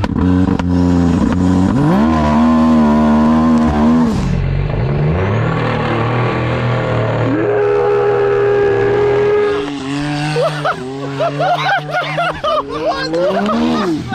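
A 400 HP Can-Am X3 on saw-blade wheels revs hard and loud, pitch climbing and falling through a wheelie, then stuttering into choppy bursts with clatter near the end.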